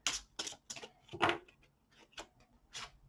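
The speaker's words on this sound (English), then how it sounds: "Let's shuffle and see what comes out for you." Tarot cards shuffled by hand: a quiet, irregular run of soft, crisp riffling bursts over about three seconds, close up and with no voices.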